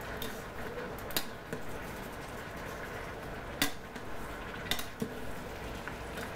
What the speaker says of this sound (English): I'm just using my tongs, mixing it around